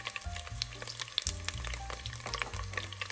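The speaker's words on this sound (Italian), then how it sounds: "Controlliamo come va il soffritto." Soffritto of garlic, rosemary and bay leaf sizzling and frying in a pan, a steady close crackle with scattered pops and occasional stirring clinks throughout.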